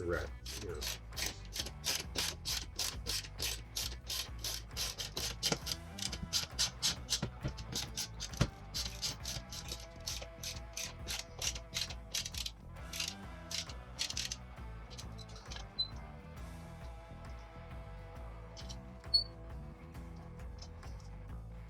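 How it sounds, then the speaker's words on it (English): A ratchet clicks in rapid, repeated bursts while driving bolts to fix a Mounting Dream MD2296 TV wall mount into a wall, close and fairly quiet, with no talk. "then use your ratchet plate to get them installed"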